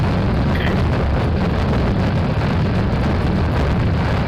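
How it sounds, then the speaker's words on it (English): A loud, continuous roar of rocket engines at launch in Kerbal Space Program, broad and rumbling, holding steady without a break. "this engine, these rockets are loud."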